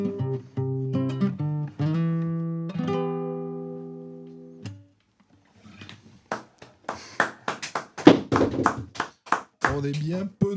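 After the last sustained notes of a live song fade in a small radio studio, a handful of people clap sparsely and unevenly, close and distinct, with gaps between the individual claps.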